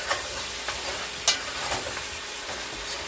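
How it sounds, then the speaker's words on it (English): Oxtail browning in a pot, sizzling steadily with a few sharp scrapes and clinks of a stirring utensil. "I go and brown down nice. Give it one stir."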